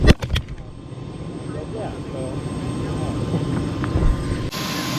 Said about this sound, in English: I've never been this close to a helicopter taking off.